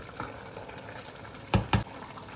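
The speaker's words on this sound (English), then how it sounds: "just give it little stirs so they don't stick" Rice pilau stirred in a pot with a spoon: low background simmer and then two quick, close scraping strokes near the end.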